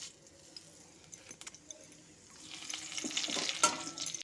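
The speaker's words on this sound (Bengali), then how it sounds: "ওই তেলের মধ্যে আমি ফোড়ন করে নিয়েছি দুটো শুকনো লঙ্কা অল্প একটু সাদা জিরে আর একটা তেজপাতা" Dried red chillies, cumin seeds and a bay leaf tempering in hot oil in a pan, a soft sizzle that swells louder and brighter toward the end, with faint clinks of stirring.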